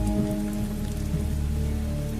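Heavy rain pours in a dense, loud, continuous wash with a steady low rumble beneath it, set on a stormy night in a horror story, with no voices.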